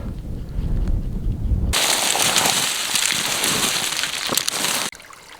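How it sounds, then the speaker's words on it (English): Water flows straight out of a scree field on New Zealand public land, a loud, close, broadband rush and splash that starts abruptly and stays steady before cutting off. "This water is flowing directly out of a scree field."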